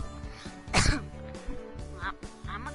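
One sharp throat-clearing cough, close and moderately loud near the middle, surrounded by soft household noise and faint voices talking.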